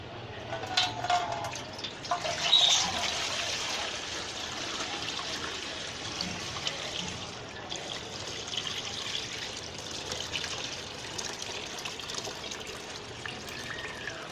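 Water trickles and pours steadily while sharbat is made, a soft continuous liquid stream with a brief louder splash early on, close by and without talk.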